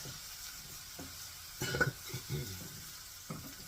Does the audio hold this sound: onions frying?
yes